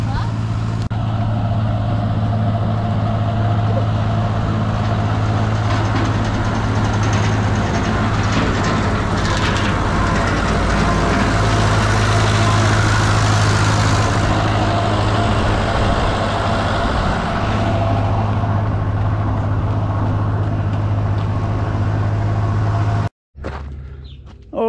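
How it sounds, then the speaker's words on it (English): Vintage Fordson Super Major tractor engine running steadily, a loud, close, continuous low diesel drone with a constant hum that lasts until an abrupt cut near the end; someone may be talking over it. "here's another one of our classic or vintage tractors, Super Major"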